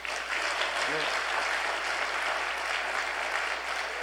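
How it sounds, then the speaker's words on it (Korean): Applause from a church congregation during a Sunday worship service, dense, steady clapping filling the hall, with a short voice cutting in near the start. "박수 한 번 더 보내주십시오"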